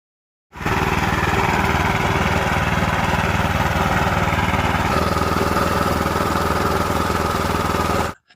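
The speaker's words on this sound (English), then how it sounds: "Here I've switched back to the reel cartridge and I wanted to test out the mowing." An Allett Kensington reel mower cuts grass after its reel cartridge is swapped in. The engine starts abruptly into a loud, steady, close drone that holds evenly for several seconds, then cuts off sharply.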